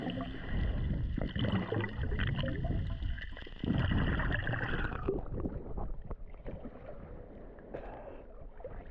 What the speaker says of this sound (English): it's time to take a swim here at Stafylos Beach in Skopelos